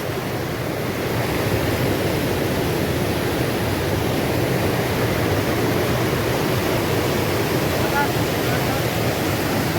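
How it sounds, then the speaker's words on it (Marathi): Forceful water rushes out of Bhivapur Lake in Amravati, a steady, loud, broadband roar that never lets up from start to finish. "पाणी तिकडून येते त्याला बघा किती फोर्स आहे"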